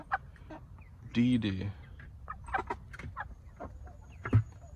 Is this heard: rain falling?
no